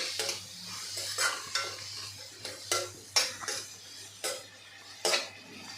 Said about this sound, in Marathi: आपल्याला कांदा परतून घ्यायचा आहे आता यामध्येच टाकूया चवीपुरतं मीठ